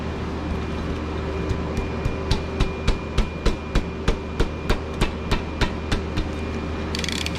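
Hammer blows on a rust-swollen bolt on a Chevy 1.8 engine during an oil cooler gasket replacement, about seventeen sharp metallic strikes in a steady, fairly quick rhythm over a low continuous hum.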